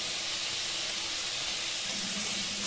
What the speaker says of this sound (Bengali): দেখো একটু হালকা ফ্রাই।